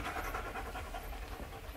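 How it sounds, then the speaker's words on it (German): A dog pants softly in rapid, quiet breaths at close range during a nighttime indoor scene, with no talk over it. "Braver Hund, braver Platz."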